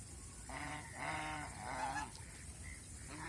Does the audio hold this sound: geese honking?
yes